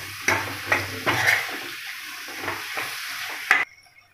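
Tomatoes cooking in hot oil with spices for a cauliflower and green peas curry, sizzling close up while a spoon stirs and scrapes the pan in several quick strokes before stopping.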